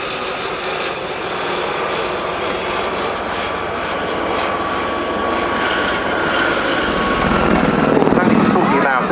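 A Gazelle helicopter flies at the Cosford airshow, its rotor and engine noise loud and steady with a rising whine toward the end, while someone talks over a public address in the background.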